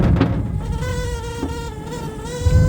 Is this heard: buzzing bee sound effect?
yes